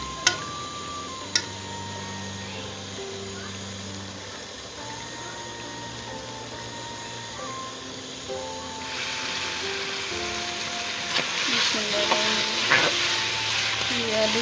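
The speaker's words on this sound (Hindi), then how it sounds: "अब इनकी अच्छी तरह भुनाई करूँगी।" Potatoes with coriander stir-fry in a pan, a continuous sizzle with scattered clinks of stirring and a faint steady tone in the background; no one speaks.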